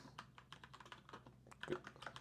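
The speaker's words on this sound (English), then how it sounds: "I didn't realise I was gonna have to do as much typing as I'm doing" Fingers type on a computer keyboard in quick, uneven bursts of close, quiet clicks and taps, with a slightly louder cluster of keystrokes near the end.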